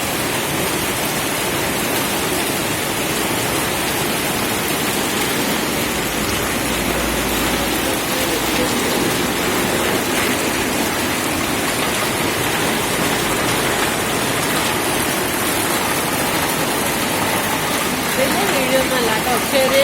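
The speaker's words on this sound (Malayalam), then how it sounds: "ഞാൻ അതുകൊണ്ടാണ് ഈ മഴയുടെ വീഡിയോ എടുക്കാമെന്ന് വിചാരിച്ചത്" Summer rain falls steadily in Kerala, a dense, even hiss that holds at one level for the whole stretch with no breaks or distinct drops.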